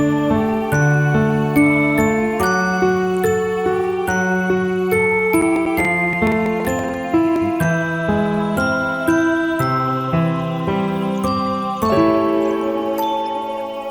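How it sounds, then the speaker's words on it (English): Calm little piano outro played with an Undertale-style sound font, soft bell-like notes in a gentle repeating pattern with the tempo easing down, bright and close, no voices. "just this calm little piano with the tempo coming down to the BPM of the next song with a little Undertale sound font"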